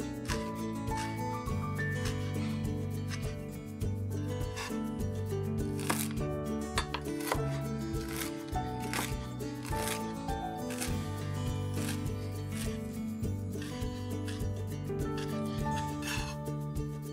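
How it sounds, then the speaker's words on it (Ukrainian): Parsley, dill and green onion are chopped with a knife on a board in fast, steady strokes, close and fairly loud, heard under continuous background music. "Теперь необходимо нарубить зелень."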